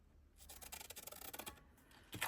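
Scissors snipping through transparent paper in quick, close, repeated cuts with a papery rasp, fairly quiet and without voices.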